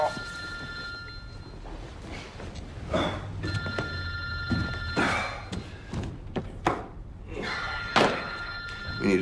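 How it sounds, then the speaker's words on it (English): A telephone rings in repeated trilling bursts with pauses between them, fairly close, mixed with thumps and knocks from handling objects nearby, with some talking. "I think that's your phone."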